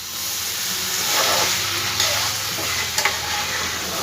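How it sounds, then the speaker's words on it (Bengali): Spices frying with potatoes and shola kochu (taro) in a pan, a steady close sizzle and hiss with occasional scrapes and stirring clicks, no talking. "ভালো করে মশলা আলু কচুর সঙ্গে কষানো আমার হয়ে গেছে"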